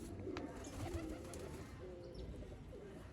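Pet pigeons coo nearby in a loft, several low soft throaty coos overlapping at close range against faint background noise.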